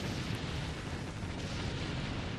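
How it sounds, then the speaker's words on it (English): Warship naval cannons fire in the video game Warship Gunner 2, a constant thick rumbling barrage with overlapping booms blending into one heavy roar, steady and fairly loud with no talk over it. "we're tearing him up really well because of how many cannons we have"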